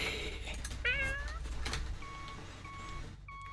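A cat in the City Supermarket Simulator game gives a clear, close meow over a low ambient hum, followed by a few short beeping tones.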